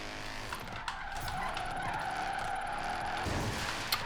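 A Mercedes drifting in the racing game Forza Horizon 3, with a steady engine drone and sustained tire skid squeal that runs continuously for several seconds, loud and close.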